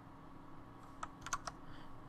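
Computer keyboard typing while working in design software for laser-cut name signs: a short, close cluster of a few crisp key clicks in an otherwise quiet room.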